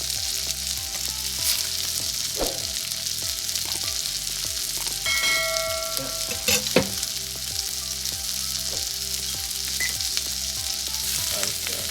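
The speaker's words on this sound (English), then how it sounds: "just gonna add some onion here" Onion fries in a pan for a keto rib-eye burger, giving a continuous close sizzle with crackles and a few brief clinks. The sizzle holds at an even level and no one speaks.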